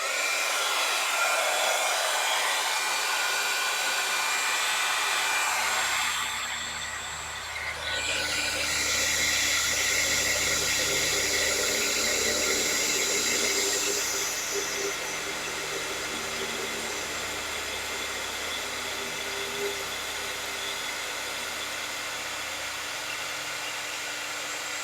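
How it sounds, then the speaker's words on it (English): A heat tool blows hot air to heat set embossing on a handmade birthday card, a loud steady whooshing drone that briefly dips and changes pitch before running on continuously, with no talking. "I'm going to turn it on and warm it up and then heat set it real quick."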